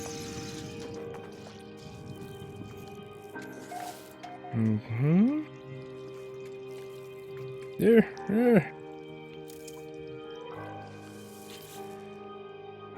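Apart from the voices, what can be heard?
bubbling planet surface in video game No Man's Sky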